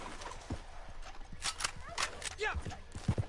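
A horse in Red Dead Redemption 2 whinnies with rising and falling squeals near the middle, and hoof clops and footsteps sound around it under a noisy game mix.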